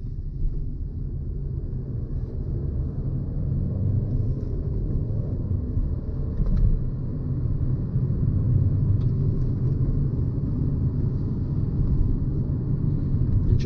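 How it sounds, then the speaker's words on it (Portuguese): A 2019 Fiat Cronos Drive with a 1.3 engine and manual gearbox pulls through the gears to around 3000 RPM, giving a low, steady interior engine rumble that swells slightly as it accelerates, with no voices. "Esticando a marcha até 3000 RPM"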